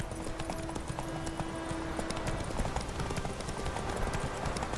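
Hooves of the horse Roach clip-clop steadily in a fast trotting rhythm through The Witcher 3 video game, close and continuous, with game music and ambience layered underneath.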